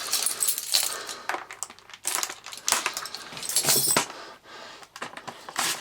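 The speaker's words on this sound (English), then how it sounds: "I need to get my keys to undo that." A bunch of keys jangles in close, bright metallic bursts, with repeated clinks and rattles scattered across several seconds.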